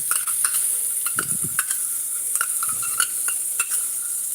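Onion, ginger and garlic cooking in a pan, giving a soft steady sizzle with light scraping stirs and occasional utensil clicks against the pan, close and fairly quiet, no talking.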